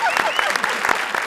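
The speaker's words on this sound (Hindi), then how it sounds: "तालियां बजाओ" Studio audience applause on a comedy stage show, a short burst of dense clapping under a raised voice, steady and fairly close for about a second.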